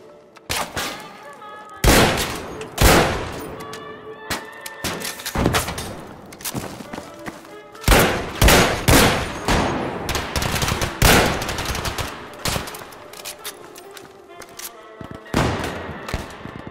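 Gunfire in the Battlefield V Firestorm battle royale mode: repeated bursts of automatic fire and single heavy shots with deep bass, loud and close, in clusters with short gaps.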